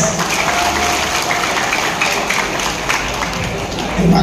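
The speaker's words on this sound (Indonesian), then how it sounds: "Tepuk tangan untuk PKS." A large crowd applauds at a political campaign rally in Sragen, producing continuous noisy clapping and crowd murmur at a steady level, with voices mixed in.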